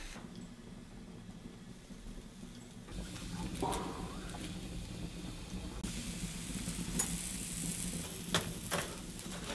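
Food sizzles and crackles steadily over hot embers of a campfire outdoors, a continuous close frying hiss with occasional sharp pops.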